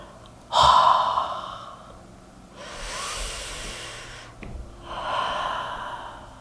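Deep breaths during a yoga pose: a sharp loud inhale, a long airy exhale, then another slow breath in, close and unvoiced, with nothing else audible.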